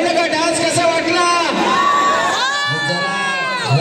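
A crowd of women cheers, shouts and whistles at a Gautami Patil dance event. The noisy, overlapping voices are close and loud, with rising whoops, and people talk through it.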